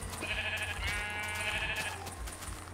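Sheep bleating in a French-language video game, a wavering bleat repeated twice over steady low background noise, fairly close and alone with no talk.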